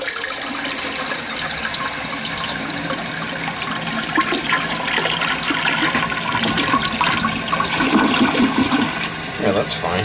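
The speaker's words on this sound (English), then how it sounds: "It's gonna flush with that amount of water." A large toilet flushing with a steady rushing, gurgling flow of water that swells toward the end, close by, with a voice briefly over it.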